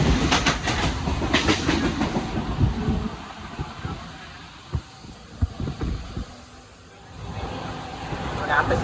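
A Mumbai local train rumbles along the rails with rhythmic clacking, loud at first then easing off, with some voices in the background.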